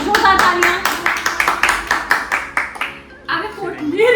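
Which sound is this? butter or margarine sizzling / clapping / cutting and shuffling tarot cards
clapping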